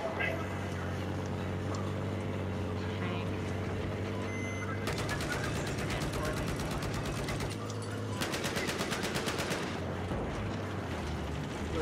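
Rapid automatic gunfire rattles in two sustained bursts in Battlefield 4, cutting through a constant droning background with game sounds and speech mixed in.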